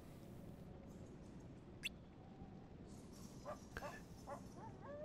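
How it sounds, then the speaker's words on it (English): A dog barks faintly inside the video game Kingdom Hearts Re: Chain of Memories, a few short yips heard in the distance beneath steady, quiet background game sound. "Like in the left ear, there was like a dog."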